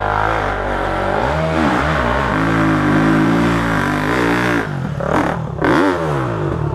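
A Honda CRF 250F dirt bike engine revs loud and close on a trail, its pitch climbing and falling in repeated surges before a couple of sharp throttle blips near the end.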